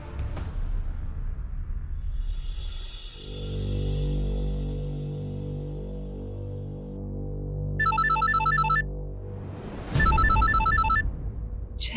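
A phone rings with a melodic electronic ringtone, with bursts of repeating chirpy tones near the end. A low sustained musical tone runs under it, with no speech.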